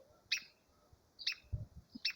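A brood-parasite chick in a masked water-tyrant's nest gives short, high chirps, three quick faint calls spaced evenly apart against a quiet background.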